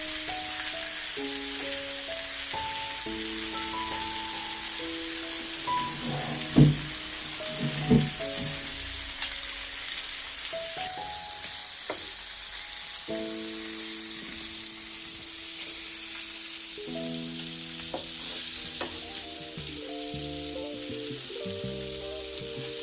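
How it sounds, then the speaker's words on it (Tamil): Small sardines shallow-frying in a pan give a steady, dense hiss and sizzle throughout, close and even, with a few soft knocks near the middle. "இதில் வச்சு வறுக்க ஆரம்பிச்சிட்டேன்"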